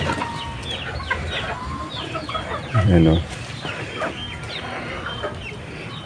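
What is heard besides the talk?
chickens and rooster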